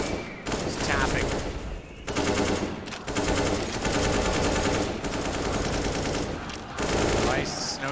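Rapid automatic gunfire bursts fill a Counter-Strike match on the Inferno map at the Katowice 2019 final, loud sustained rattles broken by brief pauses, with a voice talking over parts of it.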